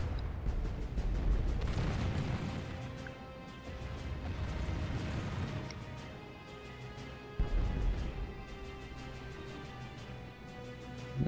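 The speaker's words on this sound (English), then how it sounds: "Now his mortars are hitting my left flank." Mortar shells bursting across a Call of Warhammer battlefield, Hochland against Stirland, a dense run of booming impacts and rumbling explosions, with one sharp blast near the end over continuous battle noise.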